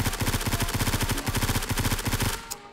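Rapid automatic fire from an AUG A3 rifle in Roblox Blackhawk Rescue Mission 5, a loud continuous stream of evenly spaced shots that stops abruptly near the end.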